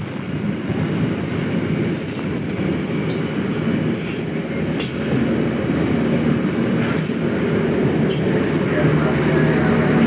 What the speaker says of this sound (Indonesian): terlihat kereta api melintas langsung di jalur satu